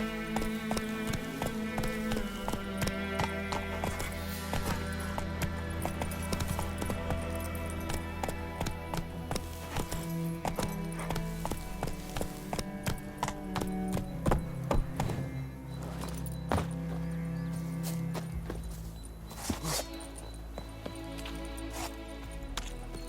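Roach, Geralt's horse in The Witcher 3, galloping with rapid rhythmic hoofbeats clopping steadily throughout, close and continuous over game music and ambience.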